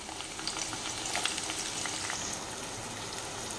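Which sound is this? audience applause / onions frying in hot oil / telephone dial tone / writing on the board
onions frying in hot oil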